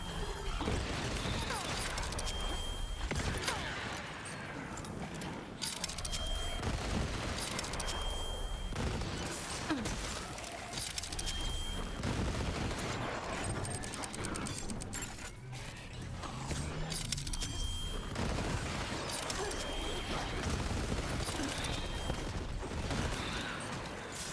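Rapid automatic gunfire from a fully automatic Jakob revolver in Borderlands 3, bursts of loud shots with mechanical clanks, repeating steadily across the whole stretch.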